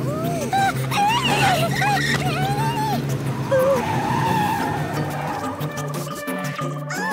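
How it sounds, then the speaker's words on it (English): Tires squeal and skid on a cartoon tow truck spinning out of control in a children's car city game, with wavering high screeches over engine drone and bright game music, loud and close. "I think the wheels are out of control."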